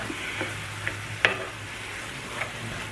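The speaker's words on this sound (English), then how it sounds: "So we're just going to keep stirring this around." Keto al pastor meat being stirred and browned in a pan, with a steady low sizzle and a few scraping clicks of the utensil, one sharper scrape standing out midway.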